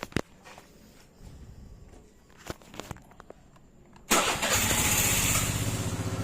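A Suzuki Burgman automatic scooter cranks after a few taps and handling clicks, then catches and settles into a loud, steady idle close by, with no talk.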